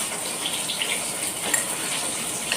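Water poured into a pan while a fish curry is being cooked, a steady continuous gushing stream with small splashes, close and fairly loud, no talk.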